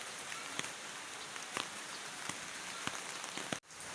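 Steady rain patters on a surface close by during flooding, with occasional louder drips standing out from the soft hiss.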